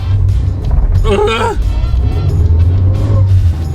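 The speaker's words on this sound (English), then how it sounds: "So it's kind of a squeaky car, kind of a rattly car" Engine noise of a small older Daihatsu Charade driving steadily, with a squeaky, rattling sound in the middle and a voice speaking briefly over it.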